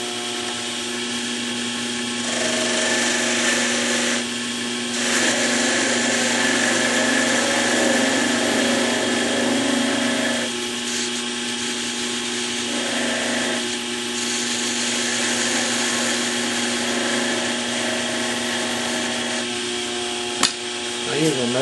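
A wood lathe spins a wooden pencil barrel sized for a Pentel pencil, a steady motor hum with tonal whine as the tool cuts and tapers the wood, rising and easing in stretches, close and fairly loud.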